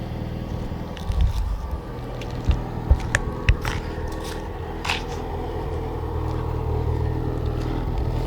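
A Mitsubishi Lancer Evolution VI rally car with a limited-slip differential gives a low, steady rumble. Several sharp knocks and clunks punctuate it midway.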